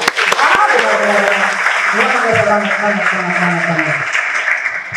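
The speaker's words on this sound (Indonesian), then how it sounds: "tepuk tangan untuk Tuhan" Applause from a congregation at a Sunday university church service, dense and sustained for several seconds while a voice keeps talking over it.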